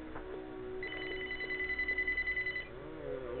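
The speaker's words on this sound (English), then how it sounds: "Phone's ringing." A telephone ringing with a fast warbling electronic trill, one long burst of ringing over a low background drone, fairly close and without talk.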